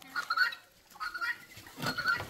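Chickens raised on a small egg-selling farm cluck in short repeated bursts, a few close calls spread across the moment with soft farmyard background between them.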